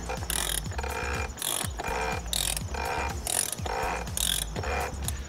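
Torque wrench ratcheting on a BMW F30 335i N55 oil filter housing cap, about six bursts of rapid clicking pawl sounds in a steady back-and-forth rhythm, close up and clear with no talk.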